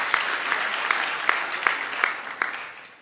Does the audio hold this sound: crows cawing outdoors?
no